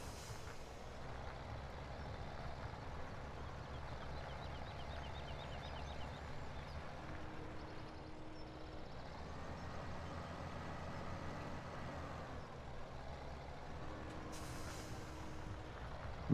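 A tractor plowing in Landwirtschafts-Simulator 17 on the Warminsko Mazurskie map, plow lowered, gives a steady, unbroken engine drone with faint higher whines and tones running throughout.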